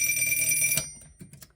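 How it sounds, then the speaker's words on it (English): A 1950 Seth Thomas Poise alarm clock rings with a loud, fast metallic bell that stops abruptly, followed by a few faint clicks and handling knocks. "for whatever reason, now it's ringing at 6 o'clock."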